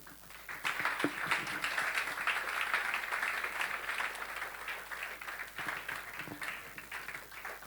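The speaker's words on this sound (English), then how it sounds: "One more time, a round of applause for Daniel Michael." An audience at a talk on building positive relationships gives a sustained round of applause, many hands clapping steadily at moderate distance for several seconds without voices.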